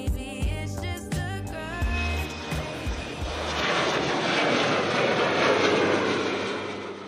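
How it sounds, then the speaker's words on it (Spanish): Jet airliner taking off at Málaga airport, its engine roar swelling into a loud, sustained broadband rush that builds and holds steady after some brief rhythmic thumps at the start. "El aeropuerto de Málaga está indisolublemente ligado al barrio y eso permite que el viajero haga un alto para ver los imponentes despegues"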